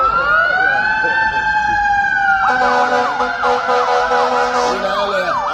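An ambulance siren wails loud and close, starting as a long steady tone and then switching to a rapid warbling yelp that fills the rest of the stretch.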